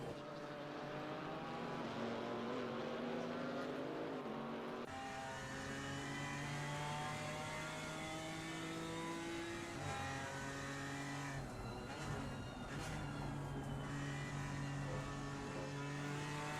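Porsche and BMW GT race cars battle in an Assetto Corsa Competizione endurance race, their engines wailing steadily and climbing through repeated gear changes, sustained and fairly distant, with no talking.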